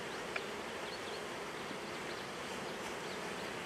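Honeybees from a strong hive, opened during comb work, make a continuous even buzz of many insects at moderate loudness, with no voices.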